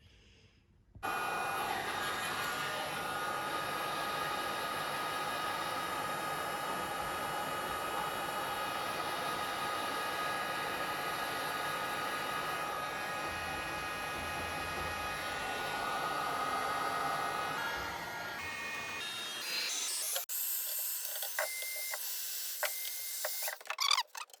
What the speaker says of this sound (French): On va revenir réchauffer au décapeur pour les fondre et les raplatir un peu pour que ça tienne bien cette partie.